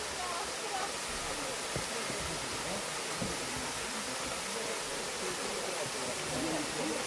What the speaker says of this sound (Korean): 폭포 소리만 들어도